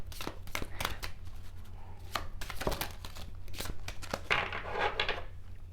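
Rapid papery riffling and tapping of tarot cards being shuffled, in several quick bursts up close, with a brisker flurry near the end.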